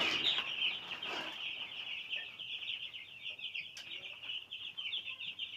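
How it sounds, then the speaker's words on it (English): Chickens on a Nigerian poultry farm raising broilers, clucking and calling steadily throughout, a busy mix of close and distant bird voices with no talk. "you can see that the birds are having a funky time"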